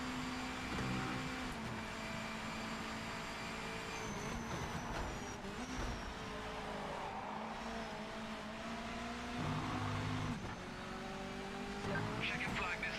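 Race car engine in the Project Motor Racing video game, a steady droning whine that rises and falls with gear changes and brief tire noise, running continuously at moderate level with faint talk over it.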